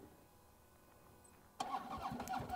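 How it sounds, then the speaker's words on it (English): Motorcycle engine starting on a bike held upright by a TiltLock leveling system: quiet background, then an abrupt catch as the engine fires and settles into a lively, uneven running chug nearby. "you can go ahead and start the engine."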